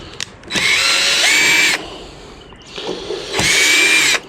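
A power drill backs screws out of a large TV in two loud whirring bursts, each about a second or more with a brief rev, separated by a short pause with faint handling.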